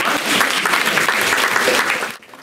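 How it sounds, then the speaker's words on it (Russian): Guests at a ninth-grade school graduation ceremony applaud the students, a loud, close burst of steady clapping that cuts off abruptly after about two seconds. "Они достойны ваших приветствий и аплодисментов."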